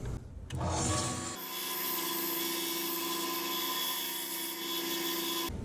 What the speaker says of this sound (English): So we've got our little 1-inch belt sander here, and we're just going to clean off this edge really quickly.